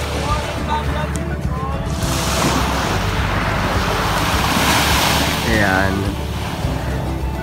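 Ocean waves wash continuously onto a beach in a steady, loud surf roar with some wind, while a voice speaks briefly over it.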